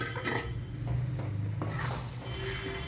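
Paneer goes into masala in a pan for paneer masala, with a spoon clinking and scraping against the pan as it is stirred, close up and moderately loud, with no talking.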